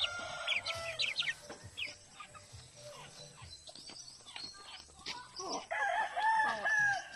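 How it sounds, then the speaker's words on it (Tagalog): A farmyard chicken in a rural vegetable-growing province clucks and a rooster crows repeatedly, near and fairly loud, with other birds and faint outdoor background around them. "My chicken."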